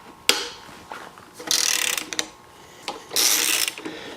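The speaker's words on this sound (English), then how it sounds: "Let me pull the bolt that's holding on this dampener as well." A hand ratchet works a bolt loose on a Porsche 911 3.2 Carrera dampener: a sharp click, then two bursts of rapid, close metallic ratcheting separated by short pauses and lighter ticks.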